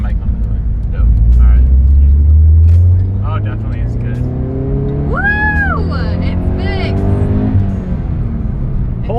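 An FRS sports car accelerating hard, its engine droning loud and rising in pitch, with voices and an exclaimed whoop over the engine noise midway.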